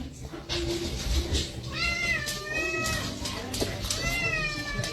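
A cat meows several times in a row, the drawn-out rising and falling calls clear over a steady background hum, with no talking.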